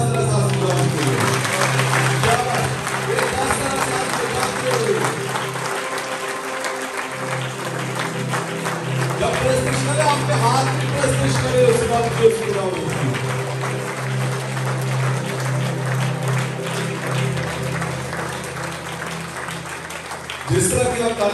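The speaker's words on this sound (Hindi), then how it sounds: "जिस तरह की आप ताली बजा रहे हैं आप राजी हो सकते हैं, खुदा इस ताली से राजी नहीं होगा" A congregation claps during a healing prayer service at Kharian Catholic Church, sustained rhythmic clapping from many people running underneath music and a voice speaking over it, stopping briefly near the end.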